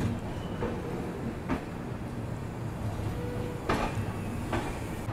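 The Kashi Vishwanath Express pulls out of platform 8 at New Delhi railway station, a steady low rumble of rolling carriages with a few sharp clanks from the coupling and track, heard from inside the train.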